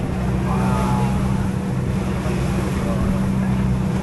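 A pumpboat engine drones steadily and loudly on a boat trip between Tablas and Romblon Island, a constant low rumble with wind and water noise as people talk over it.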